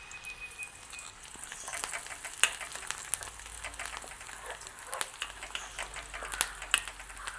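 Curry leaves crackle and splutter in hot oil while a yellow dosa batter and sambal are being made: a steady close sizzle dotted with sharp irregular pops and snaps, with no voices.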